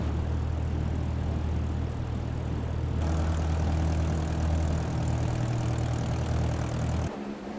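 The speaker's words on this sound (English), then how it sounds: "Today we are back in the Cessna Skyhawk, the 172." A Cessna 172 Skyhawk engine idles in Microsoft Flight Simulator, a loud, steady low drone that shifts tone partway through and drops slightly near the end.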